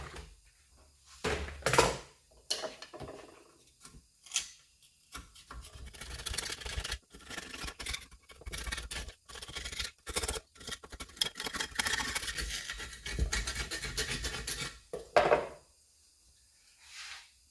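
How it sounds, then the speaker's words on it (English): A hand scraper made from a lathe cutting tool brazed onto a tapered bar and set in a file handle scrapes an old gasket off a pump surface in quiet, irregular strokes with pauses. "I brazed it onto a piece of bar, tapered the bar, stuck it in a file handle, and it makes an excellent scraper."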